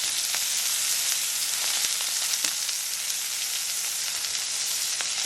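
Cold butter sizzling loudly in a hot pan beside searing skin-on salmon, a dense steady crackle with scattered pops, close and with no talking.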